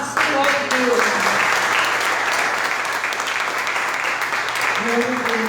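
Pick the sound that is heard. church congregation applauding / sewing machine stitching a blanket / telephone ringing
church congregation applauding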